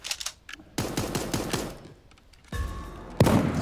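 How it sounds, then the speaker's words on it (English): Gunfire from the cartoon animal battle royale game Super Animal Royale comes in rapid automatic bursts, with short pauses between volleys and a distinct final shot, loud and close. "All of the gun sounds and everything feel really nice."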